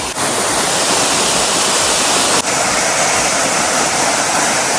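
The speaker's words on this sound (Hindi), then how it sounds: "काफी अच्छा वाटरफॉल है और इसकी पानी की बूंदे आ रही ना, ठंडा ठंडा है यहाँ पे" A jungle waterfall roars as a loud, dense, continuous wash of falling water, close and unbroken from start to finish with no talking.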